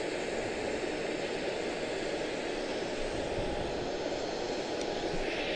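A heavy airliner arriving at Charlotte-Douglas International Airport gives a steady, loud, broadband jet roar that holds evenly throughout without any talk.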